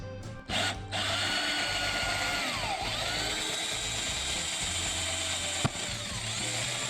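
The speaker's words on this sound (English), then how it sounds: "So you drill a hole about right here for this switch." A power drill boring a hole for a switch on a Mega Moto 80 swingarm e-bike build, running loud and steady with a whining, ratcheting buzz for most of the stretch after a few brief starts.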